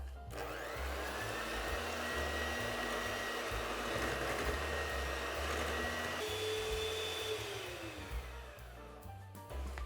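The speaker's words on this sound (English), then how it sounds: "now I'm going to whisk this for about 5 to 10 minutes. It'll probably take me 10 minutes because I'm using a hand mixer" An electric hand mixer whisks strawberry flan batter, a loud continuous motor whine held close throughout, its pitch shifting partway through as the beaters work the mixture.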